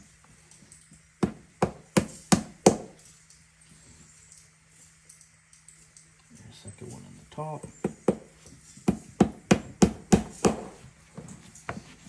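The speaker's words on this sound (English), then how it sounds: "This is a cobbler's hammer I fixed up." A restored old cobbler's hammer drives Tricouni nails into leather boots: two runs of sharp, close metallic taps, about six quick strikes, then a pause with some handling noise, then a longer burst, with someone talking briefly between the runs.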